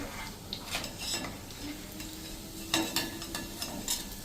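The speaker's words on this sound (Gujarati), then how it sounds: "જો આપણે લાઇટ પિંક એવી થાય ને ત્યાં સુધી આપણે આને ફ્રાય કરી લેવાની છે" Wheat flour biscuit puri frying in hot oil, a close crackling sizzle broken by several sharp stirring and scraping clicks from a utensil in the pan.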